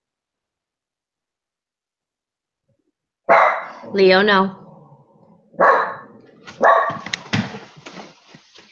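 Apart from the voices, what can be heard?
dog barking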